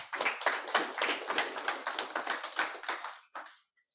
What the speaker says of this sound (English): let's have a big round of applause and welcome Avi from Harmony